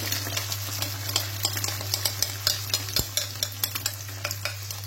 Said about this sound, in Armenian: Ոնց մի փոքր տապակվեց խոզապուխտը, ամբողջ մեր խմորը արդեն դատապում է խոզապուխտի վրա։